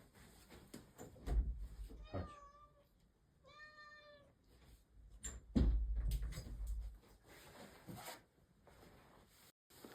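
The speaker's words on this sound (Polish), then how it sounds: "Słychać miauczenie, to wpuszczę." A cat meows twice nearby, short rising calls a second apart, among soft knocks and handling noises in a quiet room.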